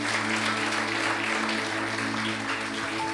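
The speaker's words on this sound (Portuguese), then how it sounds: "aplauda mais uma vez o Senhor." Church congregation applauding during a Sunday worship service, a dense, steady wash of many hands clapping at once that fills the room for the whole stretch, with a low electrical hum underneath.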